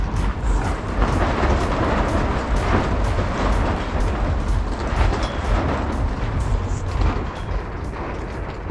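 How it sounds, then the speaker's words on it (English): A Burning Man dust storm with 30 to 35 mph winds roars steadily and loudly throughout, a dense, continuous rush of buffeting gusts with no pauses. "Here's the dust storm, 30-mile-an-hour winds"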